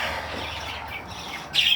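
Birds squawking close by, a loud harsh call burst at the end following rougher, noisier calling, with no talking.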